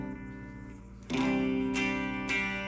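An electric guitar plays processed, sustained chords through a factory preset on a Boss ME-25 multi-effects unit, with sharp new strums entering after a quiet start and ringing on steadily, no voices present.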